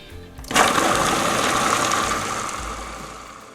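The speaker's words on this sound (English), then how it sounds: "we're ready to pop the lid on and process it" A food processor blends hummus ingredients with a sudden loud whirring start, then a steady grinding roar that eases slightly toward the end, with no voices.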